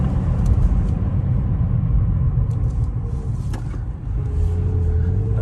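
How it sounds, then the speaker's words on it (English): A 2006 Toyota RAV4 3.5L slows hard from 65 mph on the freeway, a steady close cabin rumble of road and engine noise that dips briefly as the car decelerates. "I'm going to push the brakes kind of hard."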